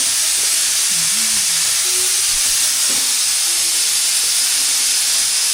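A pressure cooker vents steam in a loud, steady broadband hiss that runs unbroken from start to finish, with faint low background sounds beneath it.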